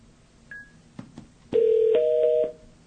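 Galaxy S22 Ultra phone dialing a call: a short beep, a few clicks, then loud sustained dual-tone dialing tones lasting about a second, clear and alone.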